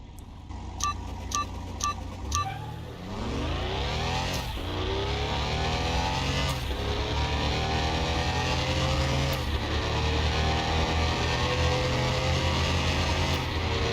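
A BMW M4 GTS race car on slick tyres in Car Mechanic Simulator 21, with a few short electronic beeps, then the engine roaring as it accelerates, climbing through gears with brief dips at each shift, loud and sustained.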